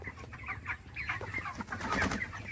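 Chickens on a poultry farm cluck and call in overlapping bursts, moderately close, with a steady low rumble of farm background underneath and no talking.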